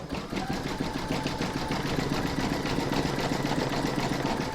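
An embroidery machine stitches a satin stitch border on an in-the-hoop Christmas coaster, a fast, steady mechanical chatter of needle strokes running continuously up close, with no talking.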